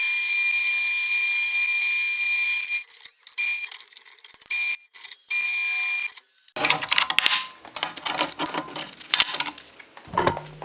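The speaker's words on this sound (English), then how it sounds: "I've never actually used my drill press before" A drill press whines steadily at high pitch, then pauses briefly several times before a rough, scraping grind as the bit cuts into metal.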